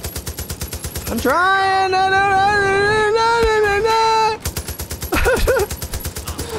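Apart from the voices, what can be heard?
gunfire in Far Cry 5 video game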